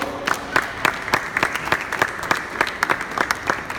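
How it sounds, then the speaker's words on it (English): Several people clap for an Arabian mare being started under saddle, the claps sparse and distinct in a loose, fairly steady rhythm, moderately close, with no talking. "Big round of applause."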